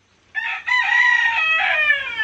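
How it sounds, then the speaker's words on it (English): Loud chickens on a farm, a rooster crowing over clucking hens, a dense, continuous squawking chorus close by that starts abruptly and carries through to the end. "Hey, chickens, can y'all, like, lower the voice level down to a 1?"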